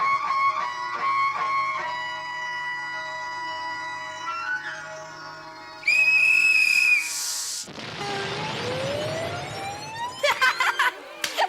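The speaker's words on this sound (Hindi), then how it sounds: "खबरदार आइंदा ऐसे कान में सीटी बजाइए ना" Someone blows a whistle close to another person's ear, producing shrill piercing blasts, first in short bursts and then a long loud blast, amid comic sound effects and a descending slide tone.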